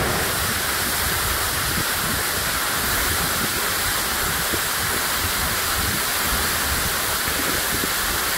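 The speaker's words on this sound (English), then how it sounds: "The largest waterfall didn't fall directly into the cove" A large waterfall roars as a loud, steady broadband rush, heard close up and alone in a forested cove.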